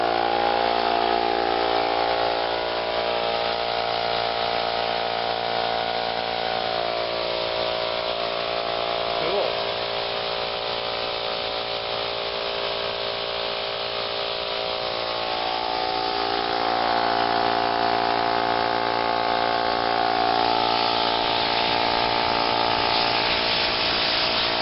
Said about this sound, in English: Alright, first startup on the compressor with clean oil in it.